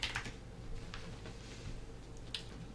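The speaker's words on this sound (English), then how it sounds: "let me quickly type that" Quiet typing on a computer keyboard, with a short run of soft, uneven key clicks and a couple of sharper taps near the start and end.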